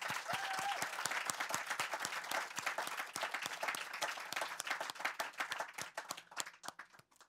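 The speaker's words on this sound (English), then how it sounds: "Please give her applause." An audience applauds a climate activist being invited to the stage, a crisp, fairly close clapping with many individual hand claps audible, holding steady and then thinning toward the end.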